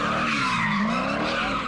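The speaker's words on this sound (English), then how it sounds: "Masses of car enthusiasts showing off and burning rubber." Cars burn rubber at an illegal street takeover in Los Angeles, with loud continuous tire squeal and engine roar filling the whole stretch without pause.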